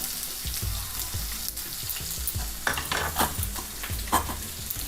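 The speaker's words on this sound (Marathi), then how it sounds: "आता आपण बारीक चिरलेला कांदा घालणार आहोत" Finely chopped onion is stirred into a pan of frying katurle bhaji with mustard seeds and cumin, giving close, steady sizzling under repeated scraping strokes of a spatula.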